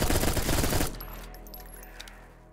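Rapid automatic MP5 gunfire in a first-person video game, a loud dense burst for under a second that cuts off into quieter game ambience with faint metallic ticks.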